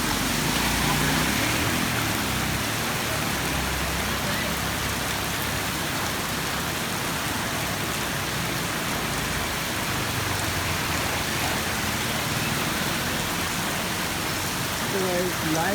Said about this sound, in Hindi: मूसलाधार बारिश है, बहुत ही हैवी रेन है।